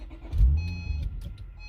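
A car with a broken SPEC Stage 3 clutch, engine turning over briefly with a low, uneven rumble and a few clunks, short and fairly close, without speech.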